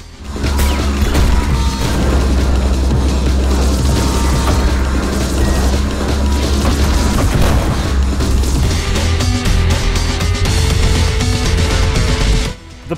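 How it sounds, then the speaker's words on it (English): Drone enemies exploding on contact in the ULTRAKILL video game, loud continuous booming blasts and crashing mixed with dense game music and effects, sustained and intense throughout before cutting off abruptly. "they fly towards wherever you punch them and explode on contact"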